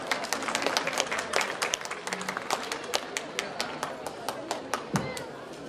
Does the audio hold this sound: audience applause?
yes